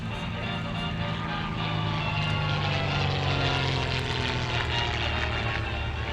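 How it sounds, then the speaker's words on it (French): A Caudron Rafale propeller plane flies at an air meeting, its engine giving a steady droning hum with a slowly shifting pitch. The sound holds at moderate loudness throughout with no one speaking. "nous avons le privilège aujourd'hui de voir ce caudron en rafale"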